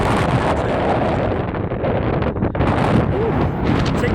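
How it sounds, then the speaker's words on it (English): Strong wind buffets the microphone at a marina, a loud continuous roaring rush with gusty swells and no clear voices. "It's windy as anything up here."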